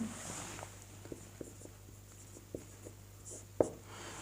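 Chalk tapping and scraping on a board in short, sparse strokes, faint and fairly close, with a steady low hum underneath and one sharper knock near the end.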